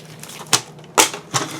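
A craft blade cutting paper for a trash journal, three sharp crisp snips spaced about half a second apart, close and fairly loud over a quiet background.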